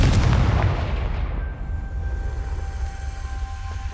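A Confringo spell explosion in the video game Hogwarts Legacy: a loud, deep booming blast at the start that rolls off into a fading rumble, with a faint tonal hum lingering afterward.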